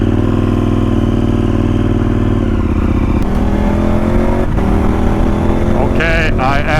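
A KTM 1290 Super Adventure R motorcycle fitted with 19/17 wheels sets off on a test ride, its engine loud and close as it revs up through the gears, with a steady low rumble and rushing wind.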